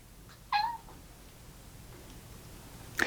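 A house cat gives one clear, close meow, then a short faint sound near the end, otherwise quiet room tone.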